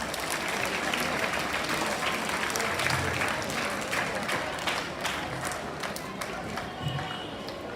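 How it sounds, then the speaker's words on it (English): An audience at a youth parliament event at a school in Tenali claps steadily, a dense sustained round of hand clapping that holds for several seconds, with faint voices mixed underneath. "A big hand clap for please."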